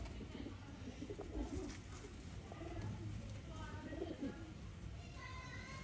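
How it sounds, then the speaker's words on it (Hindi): A male Zeeri breeder pigeon coos in low, soft, repeated phrases, faint in the background while someone talks over it. "मज़ेदार कबूतर है ये मोहसन भाई का"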